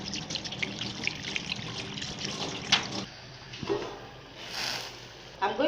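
An ingredient for abak atama soup with omuguo being rinsed in water, a trickling, splashing wash close by with brief pours and drips, fairly quiet, with some talk alongside.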